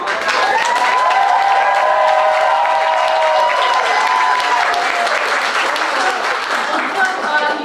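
A large, loud audience at a summer youth showcase bursts into sustained applause with cheering and whoops, dense clapping filling the room throughout.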